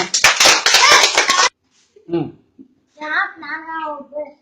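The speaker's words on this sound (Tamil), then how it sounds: "எல்லாம் கைதட்டுங்க" Schoolchildren in a classroom clap together in a loud, brisk burst of many hands for about a second and a half, then it stops abruptly and children's voices speak.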